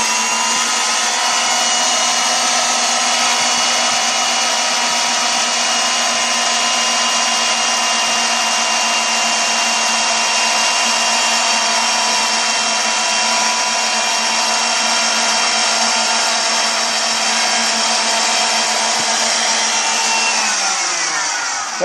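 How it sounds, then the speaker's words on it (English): An electric drill runs continuously with a steady whine and hum for about twenty seconds while drilling a 1/8 hole in a fishing float, then spins down at the end. "turn the drill on."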